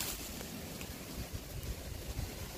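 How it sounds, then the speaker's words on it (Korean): Strong wind gusts roar and buffet the microphone near a stand of black bamboo in Gangneung, a loud continuous rushing with no talk. "오늘 바람 엄청 부네요"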